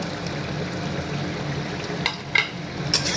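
Prawns fry in a pan of gravy with a steady bubbling sizzle, broken by a few sharp scrapes and clinks of stirring toward the end.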